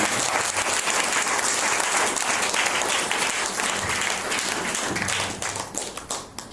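An audience at a religious gathering in Chandrapur claps continuously in a dense wash of applause. It stays steady for several seconds, then breaks into scattered, tapering claps near the end.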